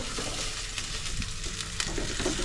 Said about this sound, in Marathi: फुल गॅसवर चांगला टोमॅटो तेल सोडीपर्यंत चांगलं फ्राय करून घ्यायचं आहे.